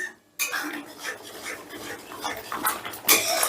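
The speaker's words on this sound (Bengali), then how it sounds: "এবারে গ্যাসের আঁচটা বাড়িয়ে দিয়ে আমি দু মিনিটের মতন আবারও কষে নিচ্ছি" Spice paste mixed with yogurt for rohu fish kalia is stirred in a pan on high flame: brisk clattering spatula scrapes against metal over a hissing fry, starting after a brief silence and growing louder toward the end.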